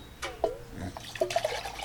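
Water poured into a container to dilute a salt-and-sugar brine for smoking fish, a short splashy trickle in a few bursts, close and moderately loud, with no voices.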